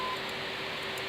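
A steady electronic tone from an ADF radio navigation receiver in a flight simulator game, set on the second ADF on channel 2, holds continuously over a noisy cockpit hiss with a few faint high blips.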